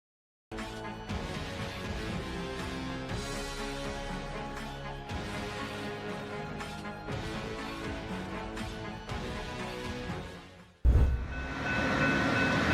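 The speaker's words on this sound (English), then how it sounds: "drivers watch a reckless train blast through the safety barriers at high speed" A train speeds through the safety barriers of a level crossing with a sustained loud rumble and rattle, cut off by a sharp loud jolt near the end.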